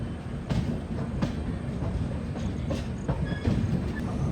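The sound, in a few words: Trivandrum Rajdhani Express train running over tracks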